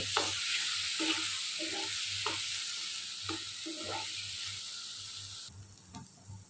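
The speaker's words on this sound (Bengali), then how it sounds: "নোনা ইলিশগুলো দিয়ে দিচ্ছি এখন মাছটা অনেক সুন্দর করে কষিয়ে নিতে হবে একদম ভাজা ভাজা করে ফেলতে হবে" Salted hilsa fish fries with spice paste in a pan, a soft continuous sizzle broken by rhythmic scraping strokes of stirring, fairly quiet and close.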